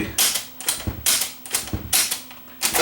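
A series of sharp mechanical clicks and clunks from buttons on a 1980 RCA VDT650 VHS recorder, about seven in quick irregular succession, close and fairly loud with no talking.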